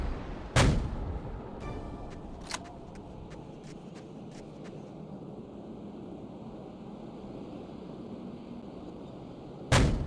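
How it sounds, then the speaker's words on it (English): Rocket launcher firing in the video game No One Lives Forever: a sharp, loud blast opens, then a few faint clicks and ticks over a steady low hiss, and a second loud blast lands near the end. "It just straight up is a rocket launcher."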